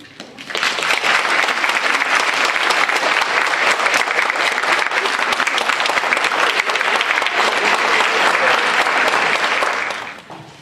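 A large audience at a capstone event breaks into loud, dense applause after a speech, holding steady for about ten seconds before tapering off.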